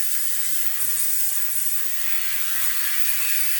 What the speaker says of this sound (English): Spray oil.